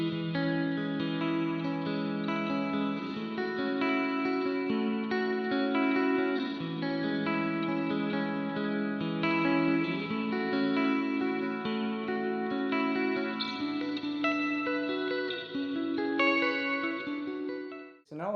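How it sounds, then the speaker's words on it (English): Electric guitar played through a Boss RV-500 pedal on its SRV plate reverb, with a very short delay adding a chorus-like shimmer. Sustained chords and melodic lines ring steadily throughout, with sparkly reverb tails, and the sound cuts off near the end. "On this one, I've tried to get the reverb tails to sound kind of sparkly, and I've added a really short delay to kind of give it kind of a chorus effect"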